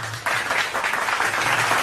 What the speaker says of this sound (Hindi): मैं चाहूँगा आप जोरदार तालियों से स्वागत